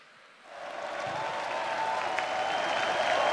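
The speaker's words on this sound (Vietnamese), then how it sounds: "Một tràng pháo tay nữa thưa quý vị dành đến cho Thoa Thương và xin mời em." An audience at the national final of Miss World Vietnam 2023 in Quy Nhon breaks into applause, the clapping swelling quickly from a quiet room into a sustained, even ovation.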